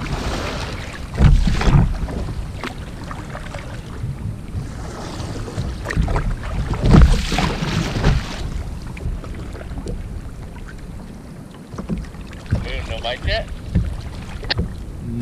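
Wind buffets a fishing boat out at sea while halibut fishing, a steady rushing roar with louder gusts swelling around the two- and seven-second marks, and faint voices talking beneath it.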